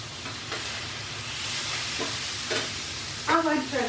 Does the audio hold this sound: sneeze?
no